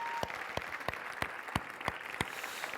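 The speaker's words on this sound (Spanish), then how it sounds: "un fuerte aplauso a los pastores" Church congregation giving a strong round of applause for the pastors, heard as a fairly faint wash of crowd clapping punctuated by regular, sharp, evenly spaced claps or beats.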